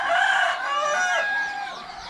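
Rooster crowing with chickens clucking on a farm in Agusan in the late afternoon, a loud drawn-out crow rising and falling over a continuous backdrop of hen calls, close and steady throughout.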